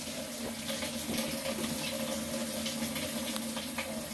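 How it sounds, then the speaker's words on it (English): Water runs steadily into a washing machine tub during a gearcase replacement, a continuous close splashing and gurgling flow with no talking. "Put a little water in."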